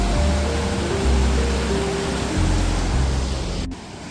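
Steady broadband rush of a waterfall beside a bridge on a mountain trek from Kathmandu toward Panch Pokhari, loud and continuous with a low hum running beneath, ending in a brief drop.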